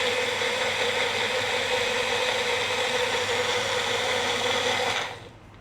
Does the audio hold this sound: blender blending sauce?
yes